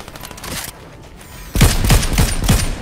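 Rapid bursts of gunfire from the video game Fortnite, starting as a faint distant rattle and then turning into loud, close, repeated automatic shots in quick succession.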